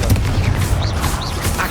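Confringo spell blasts in Hogwarts Legacy, a dense burst of booming, crackling explosive impacts with whooshing streaks, loud and continuous over less than two seconds, no speech.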